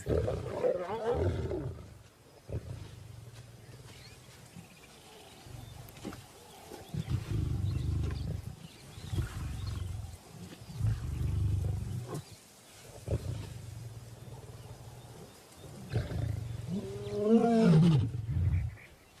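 African lions, a lone lioness and intruding males in the wild, roar in deep, drawn-out grunting bouts that swell and fade in several waves, fairly close and dominating the scene without any talk.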